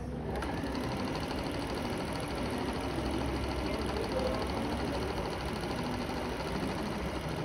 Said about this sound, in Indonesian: jadi ini supaya mudah ngesom, kamu jahit selembar